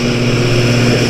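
A leaf blower runs close by outdoors, a steady loud droning whine with a constant pitch and no pauses.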